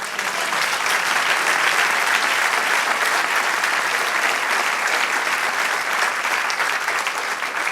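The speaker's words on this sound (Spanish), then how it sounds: "Dale otro aplauso al Señor." A church congregation applauds for the Lord, a full, sustained burst of many hands clapping evenly throughout, with no one speaking.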